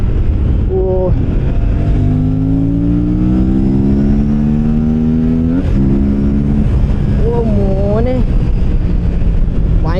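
An Aprilia RS 457 motorcycle engine revs hard while being ridden in Rajasthan, its pitch climbing steadily through the gears over a steady roar of wind rush, loud and close throughout.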